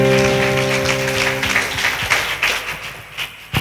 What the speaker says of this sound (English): Oh, clap for Jesus.